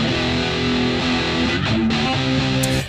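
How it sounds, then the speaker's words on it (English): Electric guitar played through Big Muff distortion with a 5 kHz treble boost gives a sustained, thick, buzzing fuzzy tone with shifting notes, loud and continuous with no other sound. "Like it sounds like a fuzz pedal."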